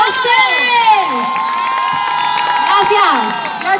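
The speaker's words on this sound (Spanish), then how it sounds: "Un aplauso para ustedes." A large concert crowd at a 2018 tour show in Sangolquí cheers, whoops and claps, with children's high-pitched shouts rising over a dense, loud wall of audience noise.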